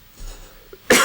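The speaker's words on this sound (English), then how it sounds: "a cough to give me a chance to have a think" A single cough bursts out loudly at the end after a quiet stretch with faint breathing, close to the microphone.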